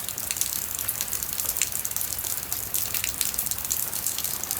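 Steady rain on the forested slopes of Gunung Salak, a continuous bright hiss with scattered patters that stays even and close throughout, with no voices.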